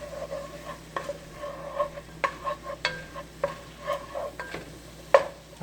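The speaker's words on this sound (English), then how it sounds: "So what I'm doing is actually cooking the onions and green peppers together." Onions and green peppers cook in a pan for chili with a soft sizzle, punctuated by irregular scraping and stirring knocks of a utensil against the pan.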